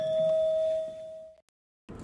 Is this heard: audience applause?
no